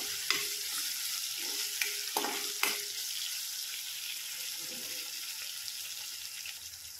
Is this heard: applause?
no